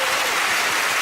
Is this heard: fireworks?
no